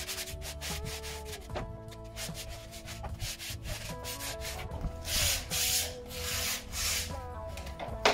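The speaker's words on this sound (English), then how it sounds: "Now watch what happens when I put the sandpaper over." Sandpaper rubbed along the cut edge of a Hardie fiber-cement plank, giving a steady, close scraping swish with a few stronger strokes near the middle, under a faint musical hum.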